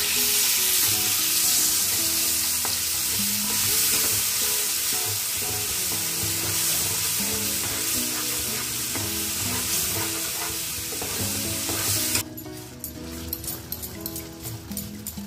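Water pours into a pan of poppy seed and cashew paste over the heat, a loud bubbling sizzle that holds steady, then drops and turns into scattered spits and pops.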